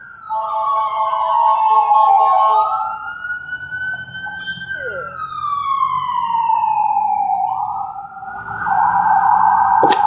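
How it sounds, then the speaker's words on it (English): A wailing police siren sweeps up and down in pitch, loud and fairly close, with a brief muttered word from someone nearby. "And there's some sirens."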